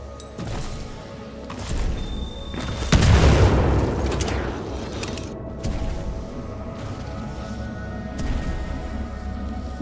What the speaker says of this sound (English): Yeah, I might actually need a frag boost